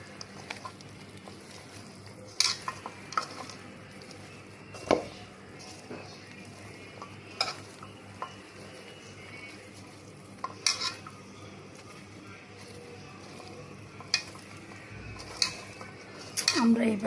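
Ingredients being mixed by hand with a little oil for a taro-stolon dish cooked like paturi, with quiet rubbing and soft stirring under a faint background hum, punctuated by occasional sharper clinks against the bowl.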